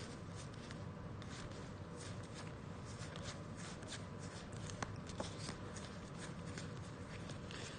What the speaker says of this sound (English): So obviously we have to shuffle, and then we're gonna add this interlude cards back